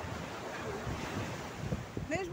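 Ocean waves wash up steadily on a beach with a constant surging hiss and wind buffeting the microphone, and a voice is faintly audible near the end.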